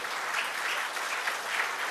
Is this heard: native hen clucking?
no